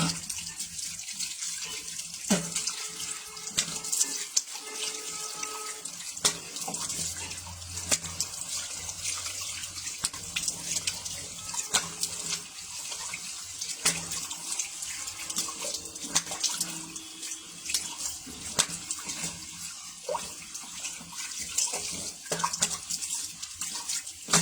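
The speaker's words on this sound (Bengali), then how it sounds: "আমি এখন ধুয়ে ফেলছি" Tap water runs steadily into a sink while face cream is washed off, with splashing and small shifts as hands move through the flow, close and fairly quiet throughout.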